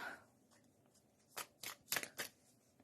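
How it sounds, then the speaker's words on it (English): Tarot cards being shuffled by hand, a run of soft riffling bursts that grow sharper toward the end, fairly close and quiet, with no voices over them. "I'm now going to shuffle some cards"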